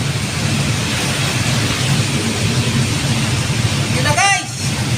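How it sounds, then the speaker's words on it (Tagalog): Heavy typhoon rain pounding down on stalled traffic in Cainta, Rizal, a dense roaring wash of downpour throughout, with a brief higher sound near the end. "Sobrang lakas kasi ng ulan."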